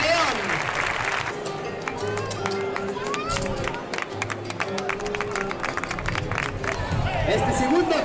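An outdoor bullring crowd at a recortadores bull-leaping contest applauds and cheers for a competitor, loud clapping and shouts beneath an announcer's excited voice over a PA.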